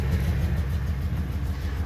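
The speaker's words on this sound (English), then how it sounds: "I've got a passenger side exhaust leak on the manifold" A Ford Excursion V10 engine idles with a leaking passenger-side exhaust manifold, giving a steady, loud low rumble with a faint ticking pulse throughout, no voices.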